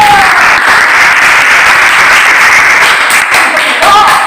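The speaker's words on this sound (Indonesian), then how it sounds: "kita tepuk tangan dulu buat kelompok satu" A classroom audience gives loud, sustained applause for the first group after its presentation, a dense, even roar of clapping close by, with a few voices breaking through near the end.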